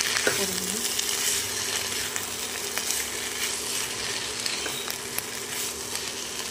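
Cabbage curry frying and being stirred in a pan, a steady close sizzle with occasional scrapes and clinks of the spoon against the pan, with no talk.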